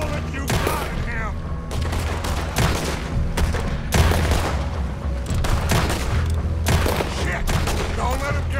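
Dense, repeated gunshots from Red Dead Redemption 2 crack in close volleys throughout a frantic firefight. Shouting voices come in between the shots.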